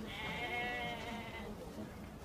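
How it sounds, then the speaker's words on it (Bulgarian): A blind sheep gives one long, wavering bleat at moderate distance, fading out after a second and a half into a low background hum. "Тази овца е сляпа."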